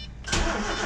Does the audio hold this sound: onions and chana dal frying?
no